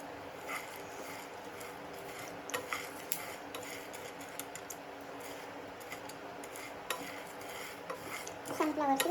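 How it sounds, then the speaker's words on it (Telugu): Seeds dry roasting in a pan, with faint scattered clicks and light scraping as they are stirred, a soft steady rustle underneath and a few sharper taps of a utensil against the pan toward the end. "ఇవన్నీ డ్రై రోస్టే చేస్తున్నాను నేను"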